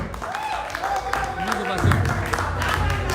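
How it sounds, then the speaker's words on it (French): Audience applause at a political gathering of Cameroonian leaders in Washington DC, welcoming Mr. Jean Bosco Tagne: steady clapping from a crowd, with speech and murmuring voices mixed in throughout. "Est-ce qu'on peut applaudir, s'il vous plaît?"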